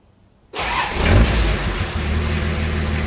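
A twin-turbo TD42 diesel engine in a Nissan Patrol cranks and fires up abruptly after a short quiet moment. It swells briefly as it catches, then settles into a loud, steady, rumbling idle close by.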